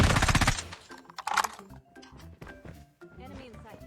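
Bursts of rapid automatic gunfire open loudly, followed by scattered shots and clatter while a voice talks.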